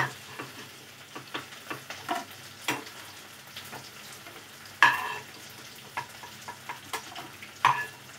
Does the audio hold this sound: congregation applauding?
no